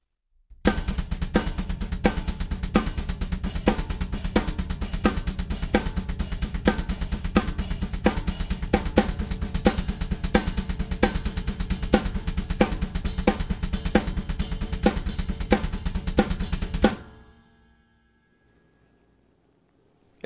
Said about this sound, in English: I like to do a lot of things with my hands over top of the kick drums